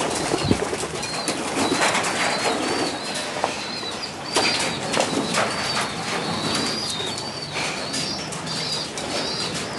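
Tomprang high-flying pigeons, heard as repeated wing flapping and fluttering with occasional soft coos, fairly close and continuous over a busy outdoor background.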